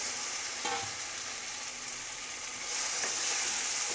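Pre-fried potatoes sizzle in a pan of cooked-down spice masala, giving a continuous soft hiss with a faint clink and a few crackles, growing slightly louder toward the end, with no voices.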